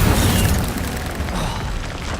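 An Incendio fire spell in Hogwarts Legacy erupts with a booming, roaring burst of flame, loud at first and then fading over about two seconds, with no voices.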